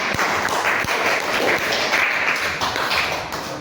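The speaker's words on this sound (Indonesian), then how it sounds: "sudah tepuk tangan dulu buat temannya" A classroom of students claps together for a classmate in a dense, steady round of applause, close and fairly loud, with a few sharper individual claps.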